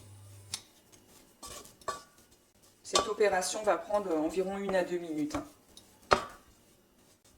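A spoon scrapes and knocks around a saucepan in sporadic bursts while choux pastry dough is dried out over medium heat, with a person speaking in the middle of it.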